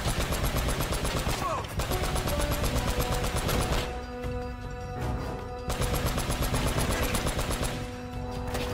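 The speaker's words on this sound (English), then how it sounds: "I got the turret now!" Mounted turret gun firing in the Uncharted video game: long, loud bursts of rapid automatic fire with a short pause midway, while someone talks over the gunfire.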